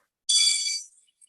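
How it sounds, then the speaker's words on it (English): A single short, bright bell ring for a time-limit warning, struck once and decaying quickly into silence, moderately loud with no talking. "a short warning bell will be rung at the end of 5 minutes"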